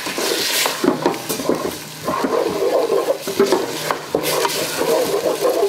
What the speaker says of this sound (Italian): una volta che la carne è bella rosolata, andiamo a sfumare con del vino rosso